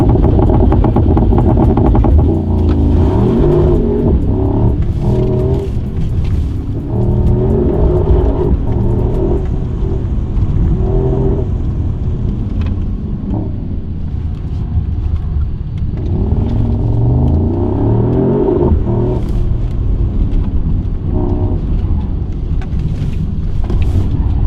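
A Mercedes-AMG GT63 works through a gymkhana course. Its engine rumbles loudly and close, with repeated revs, throttle lifts and shifting pitch as it accelerates and slows between tight turns.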